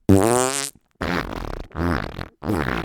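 A voice imitates the fart sound of Flarf, an orange slime putty from the dollar store that you poke with a thumb. There are four loud, close, buzzy bursts in a row, with short gaps between them.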